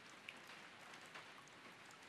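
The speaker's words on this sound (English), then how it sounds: "I heard the sound of rain pattering on the rooftop and the raindrops jumping into puddles." Rain pattering on a rooftop and splashing into puddles beside a small shack at a bus stop, a dense, even hiss of drops, fairly quiet and continuous with a few brighter individual drips.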